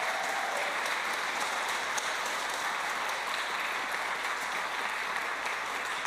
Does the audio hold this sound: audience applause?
yes